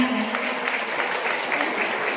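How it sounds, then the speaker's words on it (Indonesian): Applause from an audience at a Muslimat NU branch leaders' inauguration ceremony in Moga district, a steady patter of clapping throughout, with a faint voice underneath. "Tepuk tangan"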